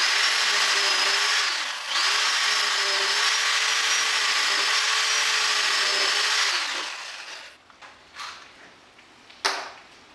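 A power drill drives screws into wood while building a DIY workbench, a loud steady whine running about seven seconds with a brief dip near two seconds, then stopping, followed by faint clicks and one sharp knock.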